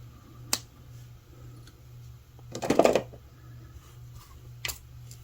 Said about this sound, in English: now I'm going to take my cutters and cut off my extra wire